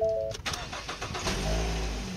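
A Ford Fusion sedan starting for the first time after more than two weeks sitting idle on a mild evening: a short starter crank catches quickly and settles into a smooth, steady idle, close and clear.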